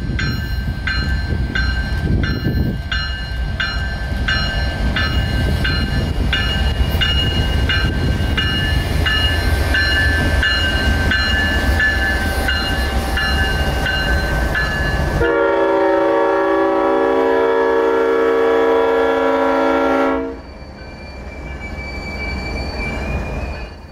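A CSX freight train rumbles past with loud wheel squeal and rhythmic clatter, then a long horn blast sounds before the noise fades slightly.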